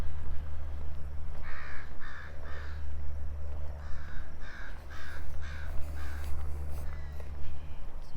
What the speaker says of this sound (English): Crows overhead.